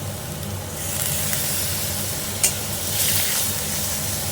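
Spice-bowl rinse water hits a nearly dry pan of jackfruit-seed bharta, giving a steady broad sizzle and hiss that swells around the middle, with a brief sharp crackle partway through and no talk.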